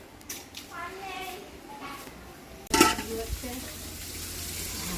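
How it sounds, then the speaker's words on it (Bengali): Potatoes frying in a pan, a steady sizzle under a sudden clatter of a pot or utensil partway through, with a person talking nearby in a home kitchen. "এখানে আলু ভাজা হচ্ছে"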